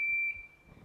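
Buzzer in a simple battery circuit switched by pressing one drawing pin onto another, giving a steady, fairly loud electronic tone for about a third of a second before it cuts off, leaving quiet background.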